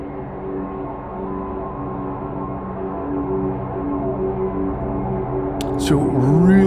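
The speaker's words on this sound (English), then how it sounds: "So really nice ambient sample there." A steady, layered 90s ambient music drone of sustained tones, with a brief sweeping electronic flourish near the end.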